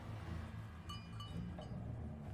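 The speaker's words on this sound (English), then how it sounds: "And now there's bells or something ringing inside that building." Faint, scattered metallic bell tinkles ringing inside a building in the game Draugen, a few light strikes over a low ambient hum.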